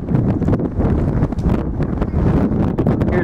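Loud, blustery wind buffets the microphone outdoors at the One World Trade Center construction site, continuous rumbling gusts with no clear speech.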